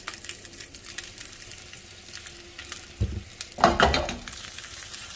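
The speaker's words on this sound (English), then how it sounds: "I'm going to add just a little bit of honey to the pan." Honey hits a hot pan of smoky, charred meat, giving a quiet crackle and then a sudden loud burst of sizzling that slowly fades.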